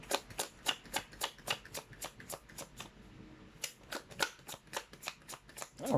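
Matte tarot cards are riffled and shuffled in quick repeated bursts of crisp flicking, close by, with a brief pause midway.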